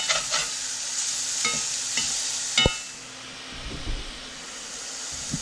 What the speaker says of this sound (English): We'll just let them fry a minute on this side and they'll be done.